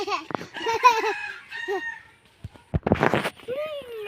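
Chickens cluck and squawk in short agitated bursts nearby, followed by scuffling noises and a rising call.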